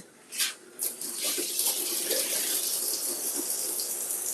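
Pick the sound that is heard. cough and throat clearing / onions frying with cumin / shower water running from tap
shower water running from tap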